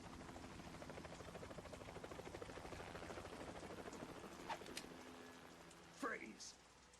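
A helicopter in the Metal Gear Solid 2: Sons of Liberty cutscene drones with a steady rotor buzz throughout, fairly faint under brief voice sounds near the end.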